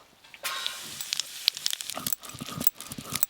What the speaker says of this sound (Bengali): গোটা জিরে ফোড়নে দেব